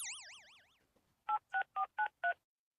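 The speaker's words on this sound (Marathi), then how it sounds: "नांदेडच्या जवळला फोन लावा." A mobile phone is being dialed: after a brief warbling tone, five short evenly spaced keypad beeps sound in quick succession, clear and close with no talking.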